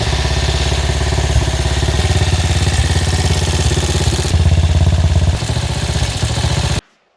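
A motorcycle engine with its ignition timing slightly off runs steadily at idle in a workshop, a loud close even mechanical chug with clatter that continues unbroken before cutting off abruptly at the end.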